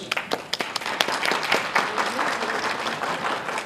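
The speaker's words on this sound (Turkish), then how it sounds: "Hani alkış?" Wedding guests at a civil marriage ceremony clap together in a short burst, with a few sharp individual claps at the start before a steady, moderately loud patter.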